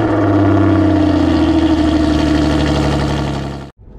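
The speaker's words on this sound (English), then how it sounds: "So now we're going to take the DB9 out on the road" An Aston Martin DB9 engine runs loud and steady with a deep, rich idle and a slight rev, holding strong for nearly four seconds before cutting off abruptly.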